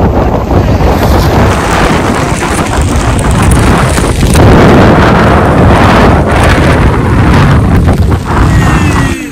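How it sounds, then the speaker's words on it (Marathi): Strong, gusty wind roars and buffets the microphone near a dam on a fort trek during heavy rain, a loud continuous broadband rush swelling around the middle, with no talk. "एवढा सुसाट्याचा वारा आणि पाऊस चाललेला आहे."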